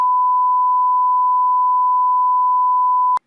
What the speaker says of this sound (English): Let's just put a beep over that one.